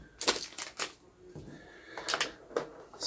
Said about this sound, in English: All right, so get the cards open first.